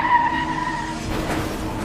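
A car's tires squeal in a sustained skid as its brakes fail, loud and continuous for about two seconds with a steady engine roar beneath.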